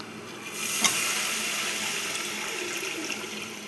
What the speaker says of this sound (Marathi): हे गरम पाणी टाकायचं आहे.